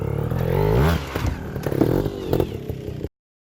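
Trials motorcycle engine revving as the throttle is blipped on and off, a short close burst of rising and falling engine note with some clatter, ending abruptly.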